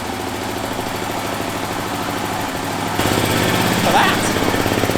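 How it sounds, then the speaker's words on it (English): A single-cylinder BMW Isetta engine runs steadily nearby with an even, rapid chugging beat that gets slightly louder partway through. "Listen to that single cylinder go."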